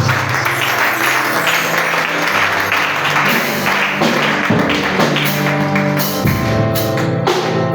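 A church congregation applauds the Lord during a prayer and fasting service, loud sustained clapping blended with sustained musical tones and organ-like chords, filling the room throughout.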